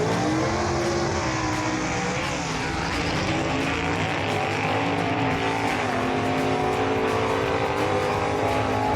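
Loud, steady roar of drag race cars at a Southeast Gassers event in South Carolina, the Damn It Bob taking on the Junkyard Dyno, holding a continuous dense engine blast for the full stretch with no voices.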